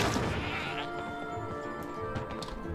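A goat bleats in the video game Trine, a loud wavering cry at the start over game sound effects, followed by scattered clanks and thuds.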